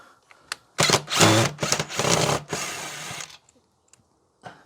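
Power tool whirs in short bursts while removing screws from the door of a Fisher & Paykel condenser dryer, several loud close revving pulses with brief pauses, then quiet with small clicks.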